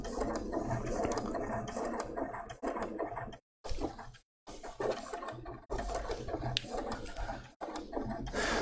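Domestic sewing machine stitching a Burda 7142 coat, a steady close mechanical whirr and rattle of the needle running continuously, broken by a few brief stops.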